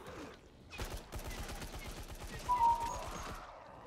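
Rapid automatic gunfire from a weapon in the video game Dying Light 2, a steady burst of closely spaced shots lasting a few seconds, with a louder crack near the end and a voice faintly underneath.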